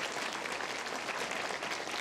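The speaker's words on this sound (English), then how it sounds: "So one more applause." Steady, dense applause from an audience at an employee-of-the-year red carpet awards show, loud and continuous throughout with no pauses and no talking over it.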